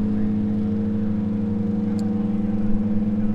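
Race cars including Porsche, Lexus and Lamborghini entries launch together at the start of the Northeast Grand Prix, a loud, steady multi-engine drone that holds close and continuous with a slight swell near the end.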